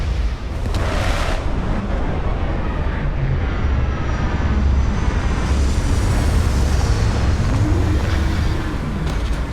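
A spaceship landing in Starfield roars as a loud, steady engine rumble with a hissing, jet-like wash. The sound swells at times and stays close and continuous throughout, with no voice.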